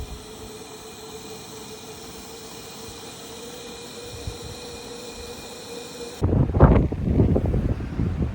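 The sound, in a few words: wind blowing on a mountain trail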